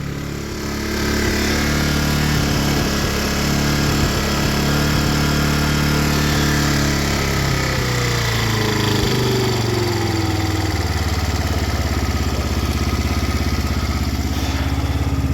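A Honda CD 175 motorcycle engine runs loud and close for the whole stretch, with a choke fault in the barn-find bike, its pitch shifting slightly midway before holding a steady idle.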